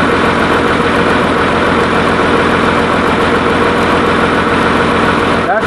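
A tractor engine idling while its electrical system runs off the alternator, with all its LED lights switched on, producing a loud, steady, unbroken drone from close by.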